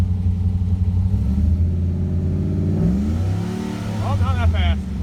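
A Ford Crown Victoria engine runs at a raised fast idle with a steady close rumble, then revs up and settles over a few seconds, with a voice briefly over it near the end.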